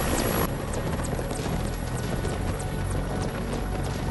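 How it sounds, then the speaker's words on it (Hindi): An Air Force rescue helicopter works over the snowy high-altitude terrain of Lahaul Spiti, Himachal Pradesh, its loud, steady rotor roar filling the air without a break. "लाहौल के बर्फीली जगहों पर सिर्फ ये हेलीकॉप्टर ही पहुंच पा रहे हैं।"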